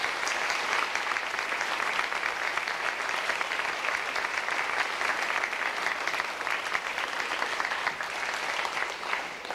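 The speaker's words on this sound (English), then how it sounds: "Let's give them a round of applause." An audience applauds a school orchestra at a middle school event, a continuous even patter of many hands that stays moderately quiet and distant for nearly ten seconds, with no one talking.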